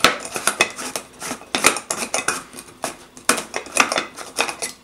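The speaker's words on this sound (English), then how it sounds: "We have this garlic mincing gadget that I've actually reviewed on this channel. Just kind of spin it around, eats up the garlic." A handheld spinning garlic mincing gadget from an As Seen On TV kitchen set works through garlic, giving rapid irregular clicking and rattling of plastic and metal parts in close, uneven bursts.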